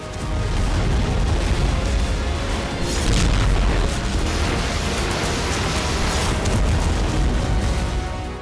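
Ukrainian army shelling in Belgorod, Russia, makes a heavy, continuous rumbling roar. Dense, loud booms swell around the third second, with no voices.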